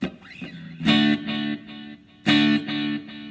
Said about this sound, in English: You got a little bit of delay there.